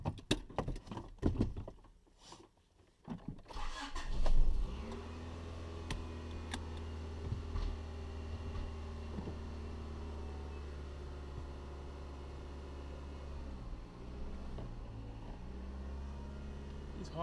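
A cold Honda with a 5-speed transmission starts after a few clunks and settles into a fast, high, steady idle that runs close and even, with a brief dip near the end.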